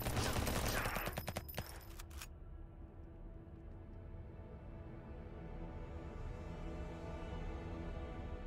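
Gunfire in the video game Until We Die, a dense rapid burst of shots for about two seconds that cuts off abruptly, leaving a low steady hum and faint background rumble.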